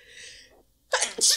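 A single sharp sneeze bursts out at close range right after some quiet breathy vocal sound, loud and abrupt.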